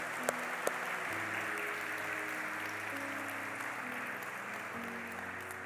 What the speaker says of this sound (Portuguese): E eu queria que a igreja recebesse os nossos convidados com uma calorosa salva de palmas